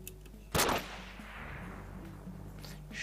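A single sharp gunshot cracks out loudly in the video game 7.62 High Calibre, followed by a long fading echo over a low steady background hum.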